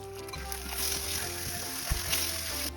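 Spicy salmon and onions sizzle in a hot pan, a steady, close, broadband hiss lasting a few seconds with a faint knock partway through.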